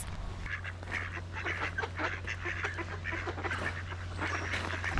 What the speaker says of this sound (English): Oh, they are noisy, these ducks.